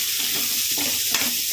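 Broad beans frying in oil in a pan, giving a loud, steady, close sizzle with light stirring scrapes throughout.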